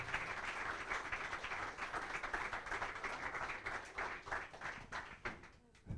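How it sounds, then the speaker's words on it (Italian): Quiet applause for a mother at a futsal season celebration evening, a soft continuous patter of clapping from a moderate crowd that thins toward the end. "facciamo un grosso applauso a sua madre"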